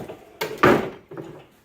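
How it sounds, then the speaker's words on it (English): A homemade bifold door in a garage shed swings and clacks shut, giving two close wooden knocks followed by a softer rattle. "We made a bifold door here."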